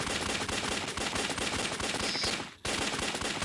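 Rapid, dense gunfire from the mobile game Alien Shooter, a continuous close machine-gun rattle with a brief gap near the end before the burst resumes, loud and alone.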